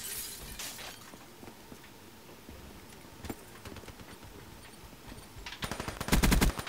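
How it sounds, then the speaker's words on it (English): Gunfire in Call of Duty Black Ops 3 multiplayer, scattered distant shots and crackles building into a close, rapid burst of automatic fire at the end. "I'm getting shot at by like 7 different people all at the same time."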